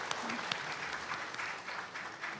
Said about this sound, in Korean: 하나님께 우리 영광의 박수 올려드리면서 함께 예배를 시작하면 좋겠습니다